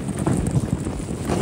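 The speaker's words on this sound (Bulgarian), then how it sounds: "Толкова силен вятър, не знам дали ме е духал някъде някога." Very strong wind roars across a mountain summit about 1862 metres high on Kamen Del, buffeting the microphone loudly and continuously with gusty rumbling.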